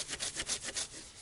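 A hand saw rasps back and forth through soft, rotten wood during a bushcraft camp among rocks, about six quick, even strokes, close and fairly loud, with no voices.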